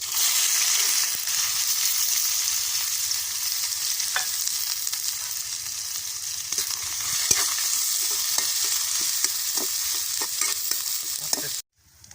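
Chopped onions frying in a hot pan over a wood-fired stove for a chicken and bottle gourd curry, a loud continuous sizzle with scattered scraping stirs and clinks, cutting off abruptly near the end.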